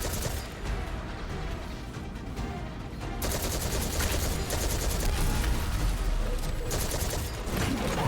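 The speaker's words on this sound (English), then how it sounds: "Who the fuck is shooting at me?" Dense, sustained automatic gunfire from enemies firing at the player in the video game Destiny 2, rapid overlapping shots that grow louder and fuller partway through and continue to the end.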